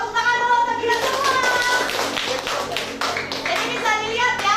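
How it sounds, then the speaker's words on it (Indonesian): Group hand clapping in a classroom ice-breaking activity, steady and fairly loud over children's excited voices and shouting throughout. "Tepuk tangan dulu untuk kita semua."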